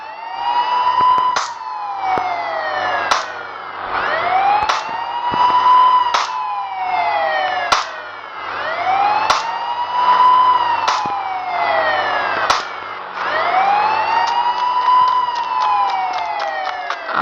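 Police car siren in the mobile game Indian Bike Driving 3D, a loud, steady wailing tone rising and falling in repeated cycles about every four seconds, heard alone without talk.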